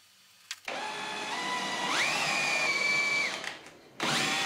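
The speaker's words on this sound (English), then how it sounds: "I used a 1/2 inch Forstner bit to drill out the eyes to a depth of about 1/2 inch" A power drill with a 1/2 inch Forstner bit whirs steadily for a few seconds, its pitch rising as the bit bites into hardwood, then stops and starts again, close and loud.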